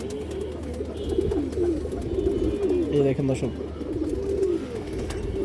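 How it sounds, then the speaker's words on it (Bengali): Male Afshan baga pigeon of an old red line cooing in soft, repeated low calls throughout, heard close by under someone talking steadily over it. "পুরান জাতের লাল গিয়ারের খুবই সুন্দর একটা আফসান বাগা নর কবুতর।"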